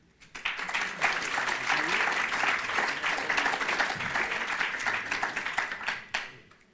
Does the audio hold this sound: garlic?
no